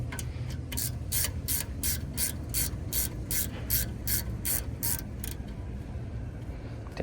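A wrench ratchets a 12 millimeter bolt loose on a Honda Accord rear wheel hub, giving a quick series of about fifteen sharp, evenly spaced clicks, close and fairly quiet, with no talking.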